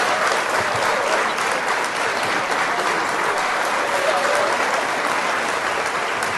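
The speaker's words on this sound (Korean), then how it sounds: "박수 한번 부탁드리겠습니다." Audience applause at a charity filial-piety music concert, welcoming a singer: a continuous dense roar of clapping from a large crowd, steady and even for the whole stretch.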